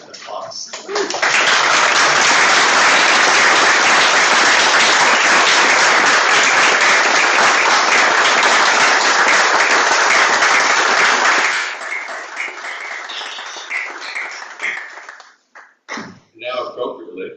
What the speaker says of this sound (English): please join me in welcoming our newest members with applause